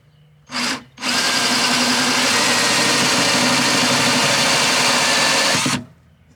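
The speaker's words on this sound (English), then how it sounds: "I need to drill out the hole to fill the water" A power drill bores out the water fill hole in a van's outdoor shower tank: a short burst, a brief pause, then a long, steady, loud whine that cuts off abruptly.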